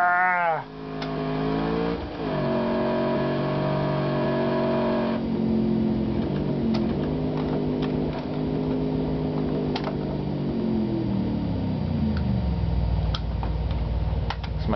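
Synthesized car engine sounds from a homebrew N64 game, a buzzing tonal drone whose pitch rises and falls as the car accelerates and slows, steady and clean with no voices.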